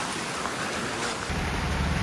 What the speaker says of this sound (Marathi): खूप पाऊस पडतोय मित्रांनो गावी